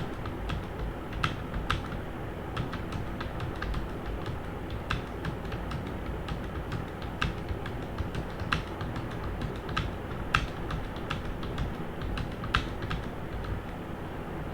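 Someone practises typing on a computer keyboard, producing a steady, close run of crisp key clicks with occasional sharper taps, continuing without a break.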